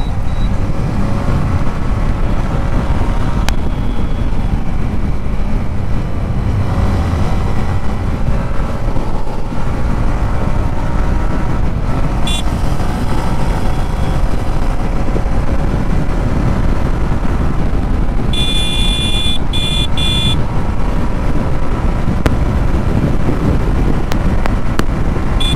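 A Yamaha MT15 motorcycle is ridden along a village road, its engine drone heavily buried under loud, constant wind buffeting on the microphone, with occasional faint clicks and beeps.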